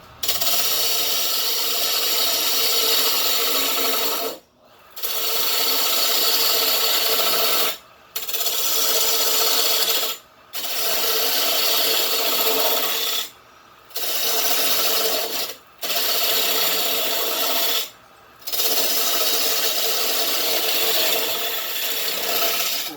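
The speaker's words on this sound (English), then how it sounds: "we have a round chisel. This is really good for roughing." A round chisel roughs out wood in a steady, raspy scraping, worked in long strokes of two to five seconds separated by short pauses, close and continuous, with no talking.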